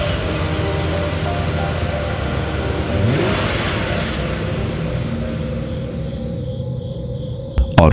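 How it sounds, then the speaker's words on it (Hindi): An ambulance engine runs steadily, with a rise in revving partway through as the vehicle pulls away, and a couple of sharp knocks at the very end; insect chirping faintly underneath. "फिर उसने गाड़ी स्टार्ट की।"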